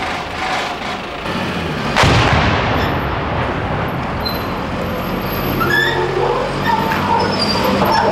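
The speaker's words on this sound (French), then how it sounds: "Ce sont des obus qui viennent d'où?" Artillery shells firing and exploding around Sarajevo during the Bosnian war, with a loud sharp boom about two seconds in, followed by rumbling echo and continuous noisy battlefield ambience.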